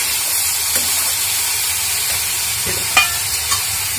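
Vegetables frying in a pan make a steady, fairly loud sizzle and hiss, with a couple of brief utensil taps or scrapes near the end, close up and with no one talking.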